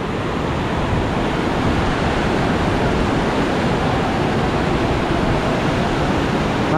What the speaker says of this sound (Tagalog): Napakalakas talaga ng alon ngayon, napakaraming tubig, napakalakas ng current ng tubig.